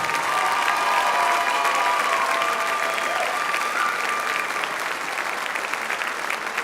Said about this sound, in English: One more round of applause for our young people on the stage, everybody.